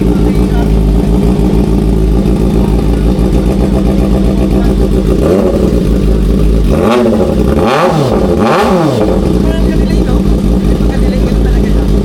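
A Kove 450RR inline-four sportbike engine idles loud and close for about five seconds, then gives three sharp throttle blips that rise and fall, with people talking nearby.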